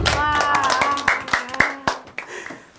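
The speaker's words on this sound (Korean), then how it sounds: "박수!" A group in an elementary school classroom claps during a lesson: a run of sharp, irregular hand claps, with voices over the first part before the claps thin out.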